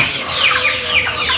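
Goliath chickens raised in cages cluck and chatter continuously, a loud, close chorus of overlapping hen calls in a farm shed.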